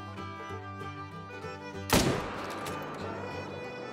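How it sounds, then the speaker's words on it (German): A single sharp gunshot at a bear from 300 meters in the video game theHunter: Call of the Wild cracks out midway, loud and close, over a steady musical background that continues afterward. "300 Meter Schuss auf den Bären."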